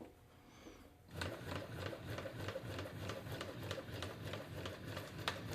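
An iKonix KS-0303 walking foot industrial sewing machine set to a long stitch, starting up after a brief quiet moment and then running in a fast, even mechanical chatter, close and fairly soft.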